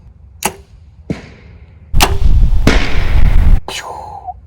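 Arrows loosed from a bow during a homemade archery challenge: a few sharp, close thwacks spaced apart, then a dense burst of noise as the arrow strikes a balloon, followed by a fading rattle.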